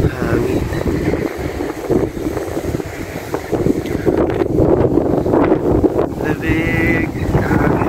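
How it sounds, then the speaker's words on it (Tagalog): Cold night wind gusting outdoors, roaring steadily and buffeting the microphone in loud rumbling waves, with people talking beneath it. "Grabe ang lamig ng hangin."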